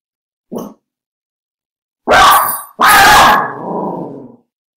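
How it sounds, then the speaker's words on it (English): A dog barks indoors, close and loud: one short yip, then after a pause two heavy barks, the second trailing off, with no talk. "That's my dog barking."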